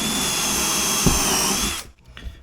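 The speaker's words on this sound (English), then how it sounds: "Drill through." A power drill boring through 18mm MDF for cabinet work, a loud close high-pitched whine holding steady for nearly two seconds before cutting off abruptly into quiet.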